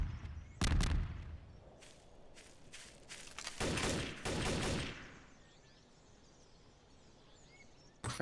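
Bursts of video game gunfire with several sharp volleys and rapid fusillades clustered early and mid-clip, loud and close, then fading into a quieter ambient bed before a final shot at the end.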